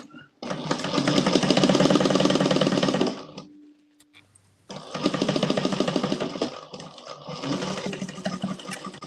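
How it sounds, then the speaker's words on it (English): A sewing machine stitching two layers of cotton runs in two loud, fast-thumping bursts separated by a short pause, its rapid mechanical chatter close and steady. "My machine makes so much more noise when I'm sewing 2 layers of cotton instead of vinyl."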